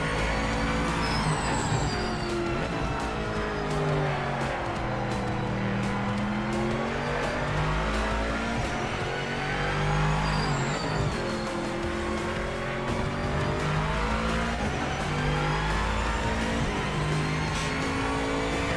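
A GT3 race car on a warm-up lap in Project Motor Racing revs and shifts continuously, its engine pitch sweeping up and down through gears with tire squeal, loud and close throughout.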